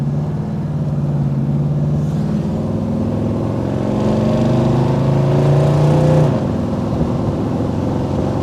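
Custom 1964 Pontiac GTO pulling out onto the road, its engine droning steadily and rising in pitch as it accelerates, heard close from inside the car.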